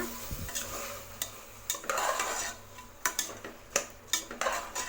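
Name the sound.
stirring rice in a cooking pot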